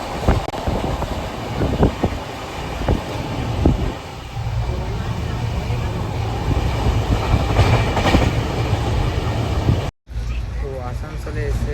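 A passenger train on the Bardhaman to Jammu Tawi route rolls steadily along the rails, a continuous loud rumble with repeated clickety-clack beats and wind buffeting, cut off abruptly near the end.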